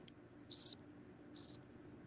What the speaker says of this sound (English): Got crickets.